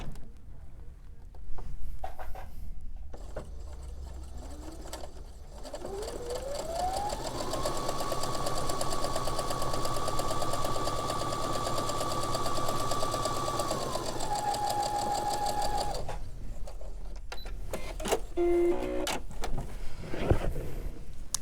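A sewing machine stitches two parallel lines of sewing through fabric, its motor ramping up into a long, steady whir before slowing and stopping, with a few handling clunks around it and no speech.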